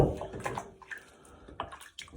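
Water sloshes and splashes softly as a brass mouthpiece is twisted and pushed in and out of a cleaning soak, with brief drips and clinks, close up.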